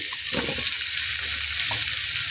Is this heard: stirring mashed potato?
yes